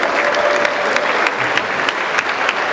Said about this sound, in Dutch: Hartelijk applaus.